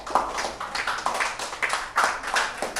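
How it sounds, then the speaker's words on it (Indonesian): Classroom applause for a student result, a loose run of hand claps repeating through the whole stretch at moderate distance, fairly soft and without talk. "tepuk tangan dulu untuk hasilnya."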